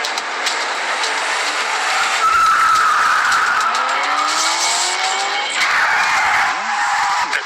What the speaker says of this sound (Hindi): ये कार रेस के लिए बिल्कुल फिट है।